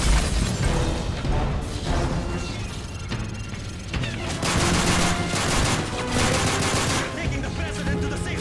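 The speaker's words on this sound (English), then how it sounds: "Gunfire!" Dense bursts of automatic gunfire and booming shots in a Call of Duty Modern Warfare 3 campaign firefight, loud and close, coming in repeated volleys with brief lulls and some shouting mixed in.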